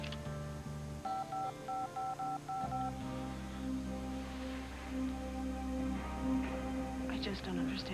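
A cell phone number is keyed in as a quick series of short beeping tones over soft background music.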